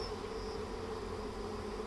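A steady, dense hum of many honey bees buzzing close by at a hive, continuous and fairly quiet, with no voices.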